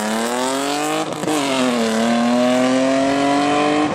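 A BMW E36 with a catback straight pipe exhaust roars loudly close by, revving through a brief gear change and then droning steadily with rising pitch under load, raspy and harsh.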